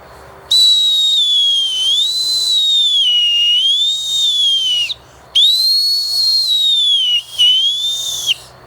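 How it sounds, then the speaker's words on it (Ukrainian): A bright, steady homemade wooden whistle blown in two long tones, pitch bending up and down like a slide, with a brief gap between. "міняючи камеру нашого свистка, ми можемо міняти і тон звуку, як у тромбоні"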